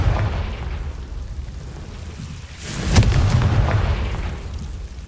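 A Confringo blasting spell goes off in Hogwarts Legacy as a deep, booming explosion with a sharp burst in the middle and a heavy rumbling tail, loud and close, over low game ambience.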